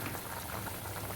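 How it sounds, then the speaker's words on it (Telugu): Egg and onion curry simmers in a pot with a steady, close bubbling hiss that holds evenly throughout a brief moment, with no voices over it. "ఇప్పుడు ఇది ఒక 5 నిమిషాలు మంచిగా మసలింది"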